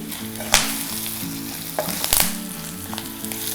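Mustard seeds, turmeric and other tempering spices crackle and sizzle loudly in hot oil, a dense continuous frying hiss with sharp pops and occasional clinks of stirring.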